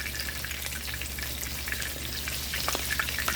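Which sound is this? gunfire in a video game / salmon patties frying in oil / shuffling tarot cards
salmon patties frying in oil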